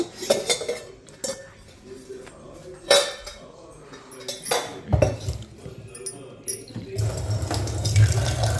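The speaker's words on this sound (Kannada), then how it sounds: "ನೀರು ತುಂಬ್ಕೊಳಕ್ಕೆ ಚಂಪ್ ತಗೊತಾ ಇದ್ದೀನಿ" A jug being filled with water at home, with clinking pots and cutlery and a tap running near the end, while a person talks.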